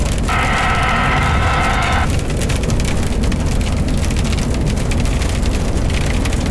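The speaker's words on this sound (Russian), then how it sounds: "Но дождь не прекращается нифига, идет и идет." Steady, heavy rain hisses loudly without pause, with a brief higher-pitched tone near the start.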